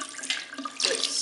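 A kitchen or bathroom tap runs steadily while a paper towel is held under it and soaked, with a brighter gush of splashing water near the end, close and fairly loud.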